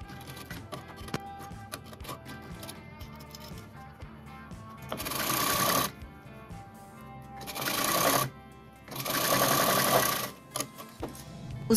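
A sewing machine stitches a blouse belt strip in three loud whirring runs of a few seconds each, separated by quieter clicks and handling of fabric and the machine.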